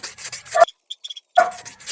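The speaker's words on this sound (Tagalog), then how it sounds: "Tapos lihain lang natin." Sandpaper rasps against a surface in quick back-and-forth strokes, pausing briefly with a few small taps before the rubbing resumes, close and fairly quiet.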